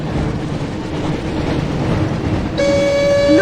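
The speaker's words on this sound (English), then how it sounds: "Looks like we found the train, Ron." Hogwarts Express steam train in the Harry Potter 2 PS1 video game, a steady loud rumble of rolling rail noise, joined near the end by a sustained multi-tone horn blast.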